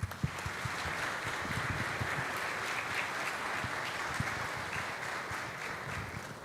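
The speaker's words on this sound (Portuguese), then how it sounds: "peço uma salva de palmas da comunidade" Community congregation at a Sunday Mass applauding together, a steady, dense wash of clapping from many hands that runs evenly throughout, moderately distant in a reverberant church.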